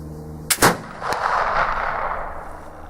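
A pellet flintlock rifle is fired with half a pan of powder: a sharp crack and an immediate loud boom come close together, followed by a fading hiss and rumble.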